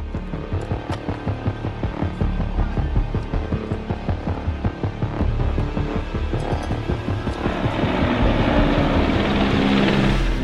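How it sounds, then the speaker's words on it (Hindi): Ukrainian military helicopters fly low over the outskirts of Kyiv during fighting, their rotors making a loud, rhythmic throbbing pulse over a heavy engine hum that grows fuller toward the end. "ये हेलीकॉप्टर यूक्रेन के हैं जो कीव के बाहरी इलाके में उड़ रहे हैं"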